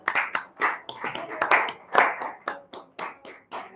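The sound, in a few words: people clapping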